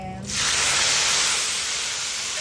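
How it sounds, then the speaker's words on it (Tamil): Ground spice paste poured into hot oil and butter bursts into a loud, close sizzle that holds steadily and then eases slightly. "அந்த சாந்தை இந்த எண்ணெயில் ஊற்றுங்க"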